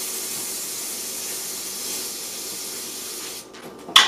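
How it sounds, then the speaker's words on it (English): Cooking spray misted onto a banana before baking: a continuous steady hiss lasting several seconds, then cutting off, followed by a short sharp clack at the end. "You're also gonna wanna make sure you spray it, that way it doesn't get stuck at all."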